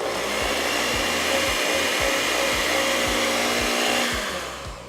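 An electric hand mixer churns cinnamon mint candy dough with a loud, continuous motor whine, punctuated by regular low thumps as the beaters knock through the dough, then easing off at the end.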